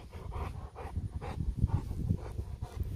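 A small dog pants steadily after catching a throw, with quick rhythmic breaths close by and no talk over it.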